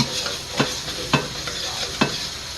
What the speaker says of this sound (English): And the garlic, trying to stick a little bit, move things around, agitate, agitate, agitate.